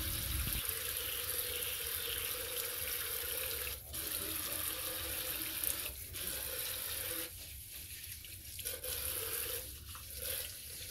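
Kitchen tap running steadily into a sink while fresh rosemary is rinsed under it, a close, continuous splashing hiss with brief shifts in tone as the stream is interrupted by hands and herbs.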